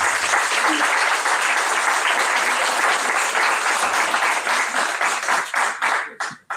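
An audience at a festival talk with chef Andrea Berton breaks into steady applause, a dense, even patter of many hands that carries on for several seconds before thinning out into a few last claps.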